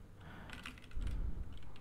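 Typing on a computer keyboard while entering an image width value, a steady run of close, crisp key clicks with a denser burst of keystrokes partway through, no talking.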